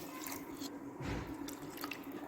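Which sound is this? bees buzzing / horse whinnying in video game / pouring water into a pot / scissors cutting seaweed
pouring water into a pot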